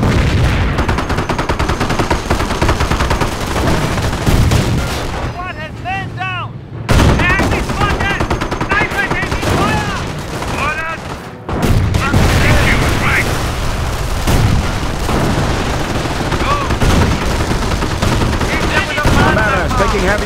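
Heavy German machine-gun and rifle fire rattles nonstop through a Company of Heroes battle, loud and dense with rapid bursts and booms, while voices shout orders over the din and two brief gaps interrupt the barrage.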